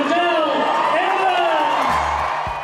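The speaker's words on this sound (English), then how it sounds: "The cheers and applause was deafening" A large outdoor crowd at Federation Square cheers and whoops to welcome home Tour de France champion Cadel Evans, a loud continuous roar of voices with scattered applause, a deep thud near the end.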